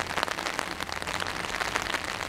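Steady rain patters densely on leaves and surfaces in a garden with pawpaw and peach trees, a close, even hiss of drops without pause.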